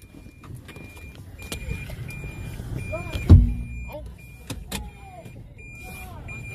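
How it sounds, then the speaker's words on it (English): A car backing up while penned in by a crowd at a street protest, engine murmur under scattered voices and shouts, with a sharp loud thump midway and creaks around it. "We're backing up."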